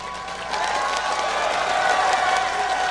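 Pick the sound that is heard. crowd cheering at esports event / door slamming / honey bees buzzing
crowd cheering at esports event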